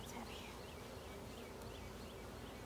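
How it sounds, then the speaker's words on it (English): Honeybees swarm thickly around an open hive lifted apart for a late-May inspection, a continuous dense buzzing hum that stays even and faint throughout, with no voices. "look at all those bees that came off of that frame that I had hanging"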